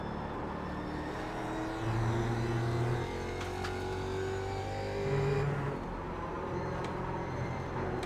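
Race car engine drones steadily in iRacing's Grand Touring Cup at Laguna Seca, swelling twice as revs climb under a faint overhead jet-like whine.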